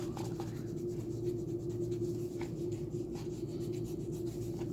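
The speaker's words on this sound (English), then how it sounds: "Erasing all the pencil lines off the paper." Quiet, steady rubbing as an eraser scrubs back and forth across paper, close up, with no talking.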